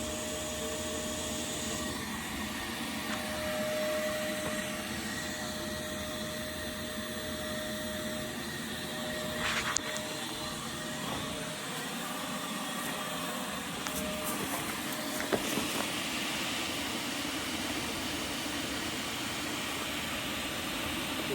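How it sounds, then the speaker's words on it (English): Two vacuums run off one power line with a steady, loud whooshing drone, sucking up yellowjacket wasps from a massive nest in a storage shed, with faint clicks and knocks now and then. "we've got 2 vacs running off a splitter on 1 power line provided by the client business"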